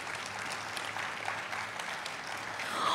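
Applause for sponsors at an International Women's Day celebration, a steady wash of many hands clapping through a hall at moderate, even loudness without voices.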